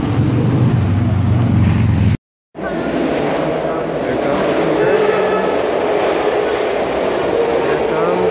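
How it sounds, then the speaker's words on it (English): San Francisco metro train pulling into a station, a loud, steady rumble and rush of wheels and air that fills the scene, briefly cut out once, with people talking nearby. "Here comes the train."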